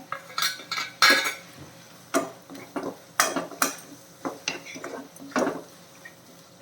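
Prawns and small shallots being stirred while roasting in a pan, with a metal spoon scraping and clinking against the pan in irregular close bursts and a faint sizzle underneath.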